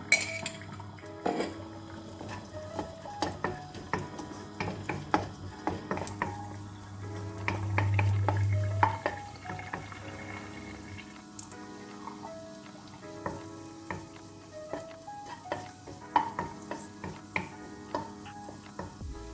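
Raisins stirred in a small amount of ghee while making carrot halwa, with repeated sharp clinks and taps of a spoon against the pan over a faint frying hiss, spread in irregular bursts.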